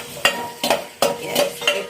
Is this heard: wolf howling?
no